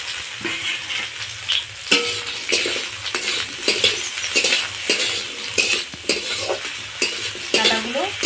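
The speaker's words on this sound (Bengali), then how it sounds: "ডাঁটাগুলো হালকা করে ভেজে নেব।" Boiled drumstick stalks fry in oil with a bay leaf and dried chilli, a soft steady sizzle under repeated spatula scrapes and clinks against the pan.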